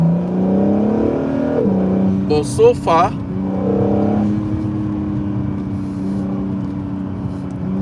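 A Honda NSX sports car's engine revs and drones steadily from inside the cabin during a drive, a sustained low hum running throughout with a voice talking over it.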